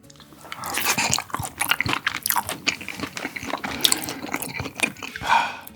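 Someone up close chews beef sashimi dressed with minced garlic and sesame oil, making wet, smacking bites and mastication noises that repeat steadily and stay close to the ear.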